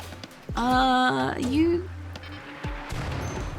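Turrets firing guns in a video game, sharp bursts of gunfire with a tonal whine in between, fairly quiet overall.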